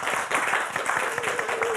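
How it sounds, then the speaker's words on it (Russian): Audience applause at a song concert in Gomel, a brief burst of energetic clapping filling the hall, with a faint tone sustained beneath it. "эти аплодисменты выдали всю интригу"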